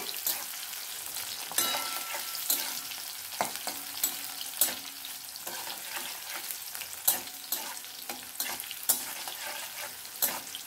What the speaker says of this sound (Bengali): সবজিগুলো আলাদা করেও ভাজা যায়, আমি একসাথেই ভেজে নিচ্ছি।